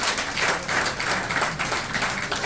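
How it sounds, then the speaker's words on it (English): Audience at an academic support and empowerment talk giving a round of applause, a dense, continuous wash of clapping that holds steady for the whole short stretch. "Let's give them a round of applause."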